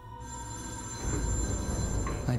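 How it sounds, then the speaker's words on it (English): A telephone rings in a cabin in the woods, a steady electronic tone that carries on over a low rumbling background that grows louder partway through. "People don't let the phone ring that long unless it's really important."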